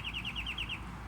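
Small bird singing outdoors on a morning near Sugar Land and Stafford, Texas, a quick series of about seven bright, rising chirps repeated in a steady rhythm over a low background hum, fairly close and clear.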